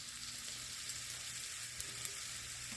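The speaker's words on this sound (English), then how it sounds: "As it hit the oil, that's the sound of good cornbread." Cornbread batter fries in hot oil with a constant close crackling sizzle, steady throughout, with a couple of small pops and no voices.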